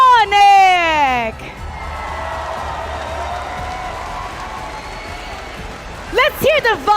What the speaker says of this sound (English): let's give a big round of applause for